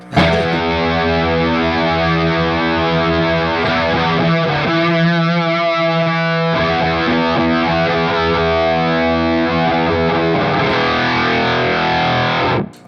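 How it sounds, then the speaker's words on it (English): Electric guitar driven through a fuzz effect pedal, heavily distorted and sustained, playing loudly for the whole stretch with thick saturated chords and no talking. "Let's hear it with the fuzz."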